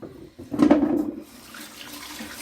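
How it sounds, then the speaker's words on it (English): A funky bad egg poured down a kitchen sink under running tap water, a brief splashing gush swelling in the middle before settling into a steady, softer trickle. "We're going to just dump that down the sink."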